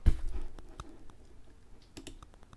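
A command is typed on a computer keyboard, with a burst of close key clicks at the start and then a sparse scatter of lighter taps, quiet and with no talking.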